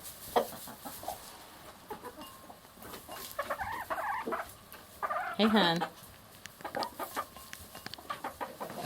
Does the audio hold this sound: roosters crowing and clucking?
yes